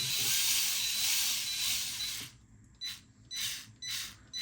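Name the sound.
power tool driving screws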